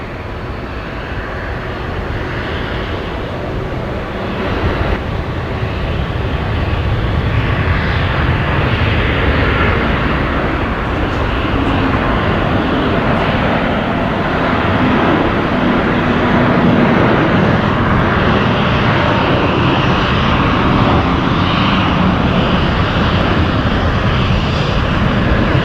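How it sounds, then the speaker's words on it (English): KC-30 tanker aircraft at Brisbane Airport with its jet engines spooling up, a loud, steady broadband roar that swells slightly and holds for the whole stretch. "Can you hear that KC30 spooling up?"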